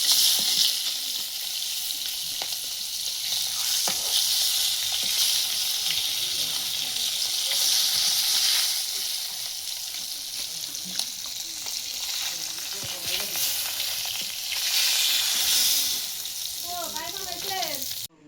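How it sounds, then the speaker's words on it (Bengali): Silver fish frying in a pan, a steady loud sizzle with crackling and stirring throughout, with faint voices talking in the background near the end. "তো আমার সিলভার মাছটা অনেক সুন্দর করে আমি ভাজছি"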